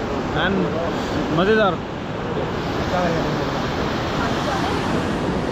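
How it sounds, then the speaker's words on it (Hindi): A river in the Kedarnath valley in winter rushes far below, making a steady broad roar with wind-like noise, while a person speaks briefly over it. "नदी की आवाज़ ना सुन सकते हो आप बहुत दूर से, ऊपर तक आवाज़ आ रही है"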